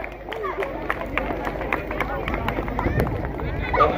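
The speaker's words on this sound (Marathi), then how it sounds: "जोरदार टाळ्या वाजवा." Spectators at a district-level girls' kho kho match in a village clap unevenly, sharp scattered claps rising over a crowd murmur and running footsteps, with a voice speaking over them.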